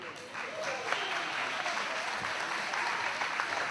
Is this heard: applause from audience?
yes